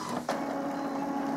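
An Epson Stylus SX405 inkjet printer checks a newly fitted ink cartridge with a steady mechanical whirr and hum. A brief click comes early on, and the sound is close and moderately loud.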